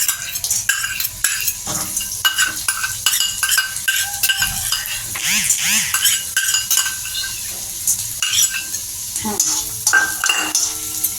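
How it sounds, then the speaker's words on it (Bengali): Loud, close frying and sizzling of red lentils with busy metallic scrapes and clinks of a spoon against the pan, stirring continuously throughout. "মুসুর ডালটা কিন্তু একটু ভাজতে হবে।"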